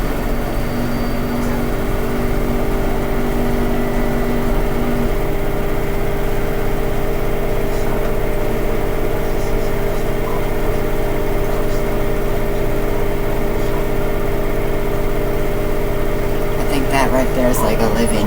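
An LG WM3600HWA front-loading washer on a speed wash cycle with a heavy-soil setting, its drum spinning up with a loud, steady motor hum and whine. Rattling and louder noise come near the end.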